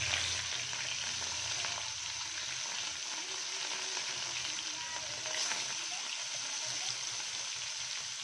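Small fish coated in turmeric and salt sizzle in hot oil in a pan, a steady soft crackling fry heard close and alone without speech.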